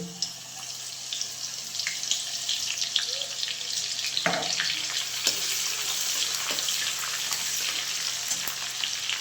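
Garlic frying in hot oil for a vegetable dish, a continuous bright crackling sizzle close up, with a few soft knocks from the pan and no talking.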